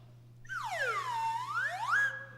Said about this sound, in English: We have our slide whistle.